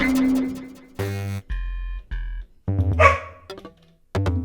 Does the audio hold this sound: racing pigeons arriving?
no